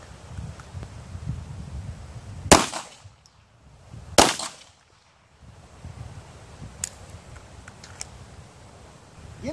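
Pistol fired during a shooting training drill: two sharp, loud shots about two seconds apart ring out outdoors, each trailing off into echo, with light wind and rustle in between.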